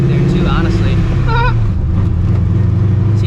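A supercharged 2004 Mustang GT idles roughly with a steady low rumble, its loud, close engine note lurching and dipping midway as it bucks, while faint voices sound in the background.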